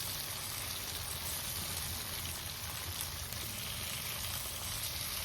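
Pabda fish going into a pan of mustard paste, giving a faint, steady sizzle that stays even throughout with no talking.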